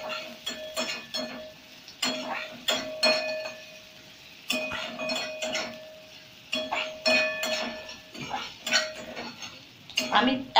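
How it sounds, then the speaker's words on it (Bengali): A utensil stirs onions in a pan over a low flame, making repeated metallic scrapes and ringing clinks in irregular bursts, close and clear, with pauses between strokes and no speech. "পেঁয়াজটাকে আমি ততক্ষণই নাড়াবো যতক্ষণ না পেঁয়াজটা একটু হালকা লাল রঙের ভাবটা ধরে"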